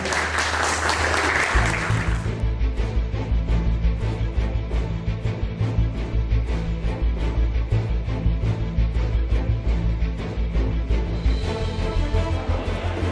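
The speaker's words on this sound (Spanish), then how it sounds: "¿Me ayudan con un aplauso para despedir a nuestros invitados?" An audience at a theater spectators' school event applauds to send off departing guests, a brief loud burst of clapping that gives way to sustained tonal sound.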